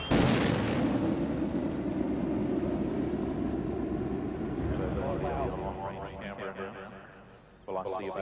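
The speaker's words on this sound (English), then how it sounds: "The shuttle announces its arrival with 2 sonic booms" Space shuttle arriving overhead with two sonic booms as the wing's leading edge and the tail break the sound barrier: a long, loud rumbling blast that slowly fades, followed by later sharper cracks and reverberation.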